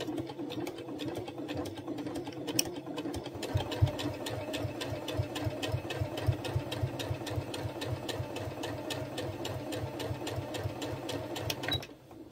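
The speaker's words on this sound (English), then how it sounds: "Just making sure I'm not stitching the trouser underneath." A sewing machine runs steadily for about twelve seconds, top stitching a patchwork pocket pinned onto a pair of trousers. It gives a close, fast, even needle rhythm and stops abruptly at the end, with no talking over it.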